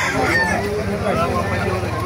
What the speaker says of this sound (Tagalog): Ganda ng mga manok dito sa Bukawi.